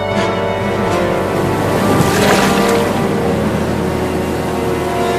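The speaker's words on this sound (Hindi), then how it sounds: "और तेज नाव को चलाओ पापा" A boat's motor drones steadily as the boat moves through water, with wash and wind noise around it. The sound is loud and continuous, with a brief swell of splashing in the middle and no talking.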